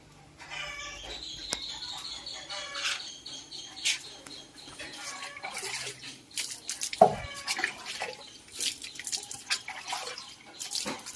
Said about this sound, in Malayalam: വെള്ളം ഒഴിച്ചു, അതൊന്ന് കോൺക്രീറ്റ് തണുപ്പിച്ചു